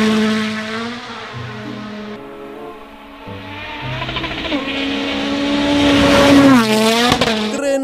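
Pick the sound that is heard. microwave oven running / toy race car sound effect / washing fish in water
toy race car sound effect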